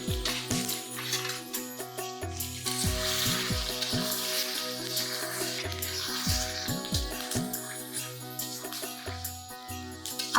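Meat and spice masala fry in a pot during traditional village cooking, a soft steady sizzle with occasional light clinks, partly under louder background music.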